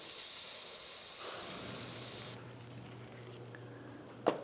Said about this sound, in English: hit this area with some brake clean